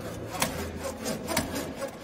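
A Makita saw cuts through wood with a rough rasping stroke rhythm, several grinding passes repeating about once a second, close and moderately loud with no talk.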